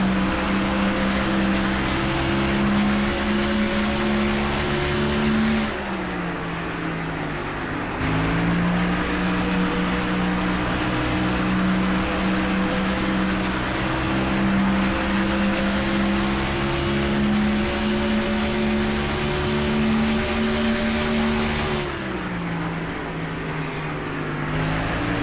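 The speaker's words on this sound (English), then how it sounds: "Just listen to the throttle, listen to the car turns and just sticks, and we're pulling away." A race car engine in the NASCAR Thunder 2004 video game, running laps at Las Vegas, holds a steady loud droning whine with rising and falling pitch as the throttle lifts briefly around corners, then pulls back up, with no talk.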